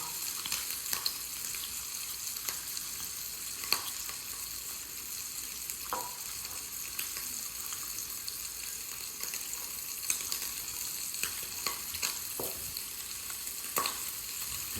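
Bacon and sausage frying in a pan give a steady close sizzle with scattered pops and crackles, continuing without talk.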